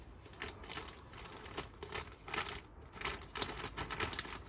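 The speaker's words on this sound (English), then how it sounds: "So I'm just going to cut the top off this bag" Plastic bag of worm cast compost being cut open at the top, giving a run of close, crisp crinkling and snipping bursts with irregular rhythm and no voice over it.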